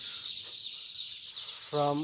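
Newly arrived chicks at a small poultry farm keep up a continuous high-pitched peeping chorus, and a short, lower clucking call breaks in near the end.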